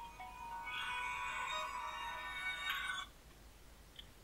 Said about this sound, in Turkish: hala telefon çalıyor abim ya